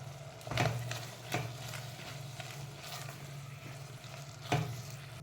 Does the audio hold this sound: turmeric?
yes